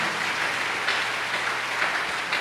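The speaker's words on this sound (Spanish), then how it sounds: "Dele un aplauso al Señor Jesús esta mañana." A church congregation applauds during a Spanish-language sermon. The clapping is a steady, dense patter at moderate level across the whole stretch, with no voices over it.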